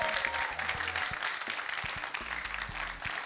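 A studio audience at a couples-edition talk show applauds in a steady, moderately quiet wash of clapping, with a low background hum and some scattered louder claps.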